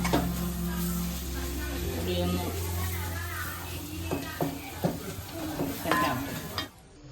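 Crab curry with spice powders is stirred in a pan at home, a soft, close scraping and sizzle with a few sharper clinks near the end, while a voice and children's chatter carry on in the background.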